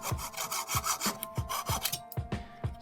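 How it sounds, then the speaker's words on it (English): A piece of wood is filed down by hand to fit a cog while repairing a fan that won't oscillate. About eight rhythmic rasping strokes, close and steady, with no talking. "So now I've finally filed the piece of wood down just enough to slot into the cog."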